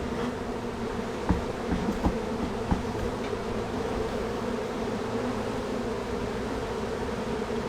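Honey bees hum in a continuous close buzz, a steady droning swarm with a few brief louder passes or taps, and no voices.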